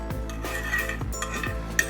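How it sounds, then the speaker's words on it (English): Ghee-roasted vermicelli goes into a pot of semiya payasam and is stirred, with a spoon scraping and clinking against the metal pot in a few quick, soft strokes. "at this time we could add the roasted vermicelli, which we have roasted with ghee"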